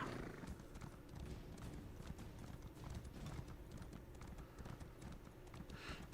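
A slow riding horse in Elder Scrolls Online walks along, its hooves clip-clopping in a steady rhythm at low volume.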